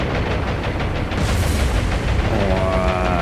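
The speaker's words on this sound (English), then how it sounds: "Rockets are off. Massive explosions." Rocket barrages exploding in the naval combat game War on the Sea, a dense rumble of booms and gunfire-like blasts that swells near the middle, followed by steadier tonal engine drone, loud throughout with no talk.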